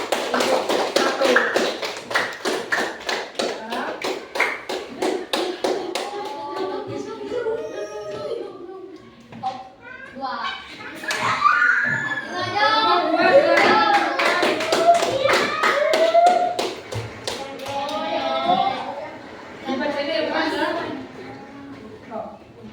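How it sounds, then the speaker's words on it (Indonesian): Children in a classroom clap for a student group: a rapid run of sharp, close claps in a quick patterned rhythm, then mixed with lively chatter and voices that continue as the claps keep going. "Tepuk tangan buat kelompok 1."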